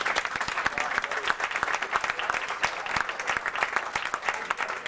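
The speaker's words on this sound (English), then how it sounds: "I think he deserves a round of applause" Steady audience applause for a panelist at a school alumni panel, a moderately loud wash of many hands clapping continuously with no talk.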